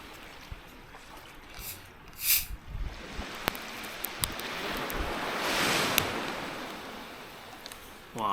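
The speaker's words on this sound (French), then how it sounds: "Wow, le bruit des vagues et tout." Ocean waves surge and wash on a shore in the Faroe Islands, a swelling roar building and fading with gusts of wind buffeting the microphone and a few nearby clicks and knocks.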